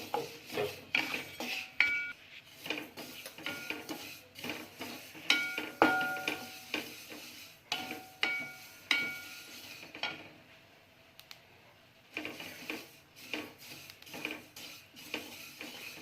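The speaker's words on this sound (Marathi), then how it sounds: "आता आपण हे तीळ भाजून घेणार आहोत" Sesame seeds roasting in a pan give off a steady stream of clinks, scrapes and ticks as they are stirred with a utensil against the metal, rising and falling in bursts, close by with no talking.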